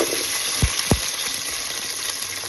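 Shallots fry in a pan with a steady bright sizzle and hiss. Two quick low knocks come near the start, and no voice is heard.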